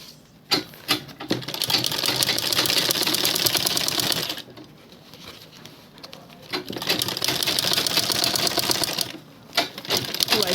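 Manual sewing machine stitching a zippered handbag, two long runs of steady, fast mechanical clatter close by, separated by a brief pause, with no talk.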